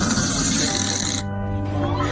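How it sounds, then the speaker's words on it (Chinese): A pet cat snores loudly, with a rough, wheezy breath that rasps and then fades into a lower, whistling tone. "有位网友发了自家猫咪打呼噜的视频"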